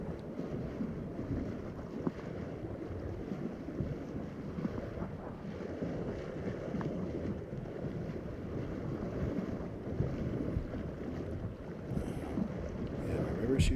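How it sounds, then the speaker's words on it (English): A rushing river after a storm churns in a steady, loud broadband roar as a kayak is dragged along, with wind buffeting the microphone throughout and no clear voices on top. "Raging river torrent."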